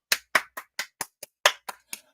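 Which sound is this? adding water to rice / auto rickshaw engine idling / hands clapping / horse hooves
hands clapping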